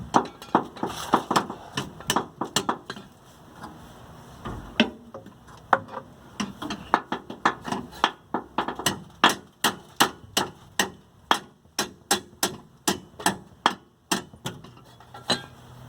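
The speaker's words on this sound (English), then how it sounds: "Try tapping it with a hammer." Steady metallic tapping from a hammer on a Nissan Frontier truck's rear shock, many sharp strikes in a fairly regular rhythm that grows quicker and more even toward the end, close and moderately loud.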